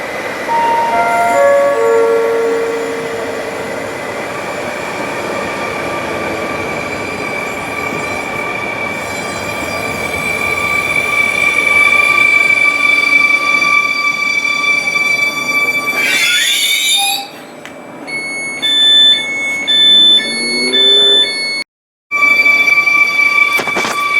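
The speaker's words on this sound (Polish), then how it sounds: "Pociąg osobowy ze stacji Warszawa Wschodnia wjeżdża na tor pierwszy przy peronie pierwszym." Passenger train from Warszawa Wschodnia pulling into platform one at Łowicz Główny station, loud rumbling and sustained high wheel squeal as it slows and stops, followed by hissing air brakes and quieter pauses.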